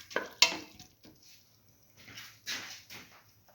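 Spoon stirring a potato and split mung bean mixture in a pot, a few soft scraping and knocking strokes against the pan, quiet and close, with gaps of near silence between them.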